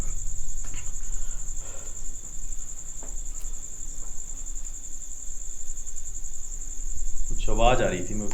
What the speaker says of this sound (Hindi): अच्छा, ये कीड़े की आवाज़ है